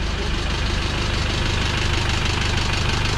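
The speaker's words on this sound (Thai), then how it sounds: "เสียงเครื่องยังนิ่มอยู่เลยทุกคน เสียงเขกก็ยังเขกอยู่เหมือนเดิม" Car engine idling steadily with a persistent knocking fault, a continuous low rumble with a fast, regular ticking knock running throughout, close and fairly loud.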